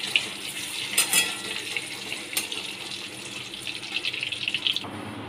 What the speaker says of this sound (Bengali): ডিমগুলোকে ভেজে নিচ্ছি।